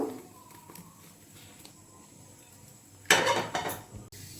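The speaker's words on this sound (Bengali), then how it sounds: "আমি সয়াবিনগুলো এখন একটা পাত্রের মধ্যে ঢেলে নেব।" Boiled soybeans are tipped from a cooking pot into a bowl in a home kitchen, with a sudden loud clatter and rattle of the pot edge near the end after a quiet stretch.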